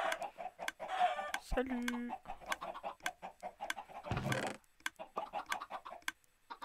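Chickens in the Minecraft video game cluck repeatedly in short, irregular bursts at close range, with a brief spoken greeting among them.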